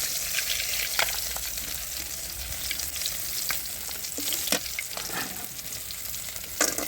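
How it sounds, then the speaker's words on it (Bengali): Bori lentil dumplings fry in hot oil after fish, giving a steady close sizzle with occasional sharper pops and crackles throughout. "ওই তেলে বড়িগুলো ভেজে নেব"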